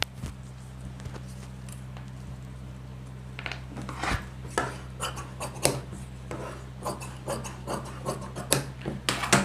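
Scissors cut cloth strips for a cot, with rapid snipping and rasping strokes that grow busier toward the end over a steady low electrical hum.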